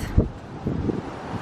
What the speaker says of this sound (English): It's so windy out though.